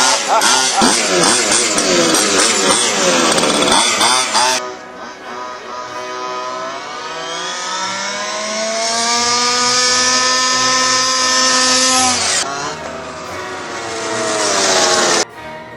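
A small gas-powered remote control car engine screams in high, buzzing revs that rise and fall, cutting off briefly and restarting, loud and close throughout.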